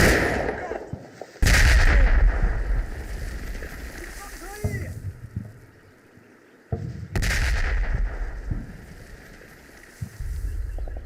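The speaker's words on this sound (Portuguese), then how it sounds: "Os primeiros tiros dos morteiros de 60 mm dos americanos começam a atingir nossas posições." Video game 60 mm mortar fire in Combat Mission Fortress Italy: heavy booming blasts, two large impacts a few seconds apart, with rumbling explosions and distant gunfire in between, loud and close.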